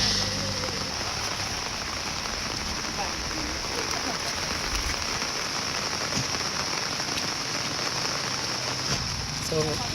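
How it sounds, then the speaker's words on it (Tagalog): Heavy rain pours steadily onto surfaces, likely a corrugated metal roof in the Philippines, a dense, constant hiss and patter with no pauses, close and loud throughout. "kay ulan man nga kusog karon"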